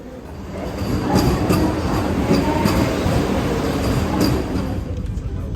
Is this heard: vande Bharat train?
yes